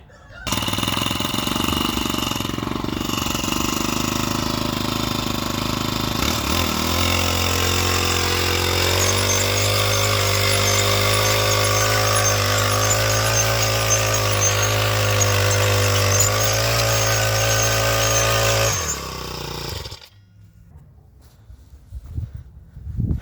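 A homemade tractor built from a moped engine runs steadily while ploughing hard, stony ground in early March, a loud continuous buzzing drone with a changing pitch that cuts off abruptly near the end, leaving quiet outdoor ambience.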